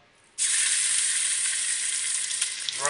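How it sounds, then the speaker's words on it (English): Pork for carnitas drops into a very hot oiled pot and starts searing with a sudden loud, steady sizzle and hiss that holds at close range. "the meat right in and let that sear where it gets all brown and crusty on the outside"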